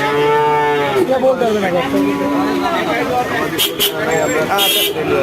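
Bulls and cattle low loudly and repeatedly at the Aronkhola livestock market in Pabna, with long close moos over busy market noise, a distant horn and people talking.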